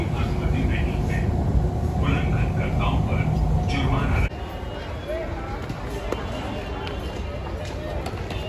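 A metro train rumbles loudly into a station in India with clattering and mechanical noise, then abruptly cuts to quieter ambient station noise with faint movement.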